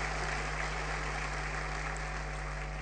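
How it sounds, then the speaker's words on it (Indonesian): An Indonesian church congregation at a GBI Sunday service gives sustained applause to God, an even, hissing wash of clapping over a steady electrical hum. "Kita berikan tepuk tangan buat Tuhan."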